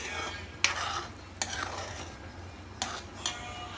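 A spoon stirs kokum and a pinch of salt into a boiling Goan fish curry, with a few sharp clinks against the pot over a steady low simmering bubble.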